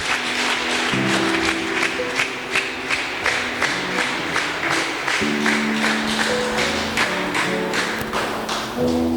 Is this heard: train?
no